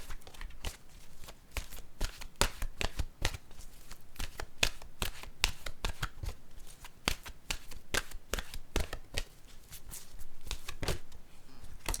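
A deck of oracle cards being handled and dropped gives rapid, sharp papery slaps and clicks in an uneven burst, close and fairly quiet.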